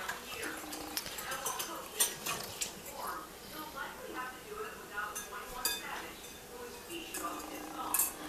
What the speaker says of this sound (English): We're gonna take our whisk and start whisking it.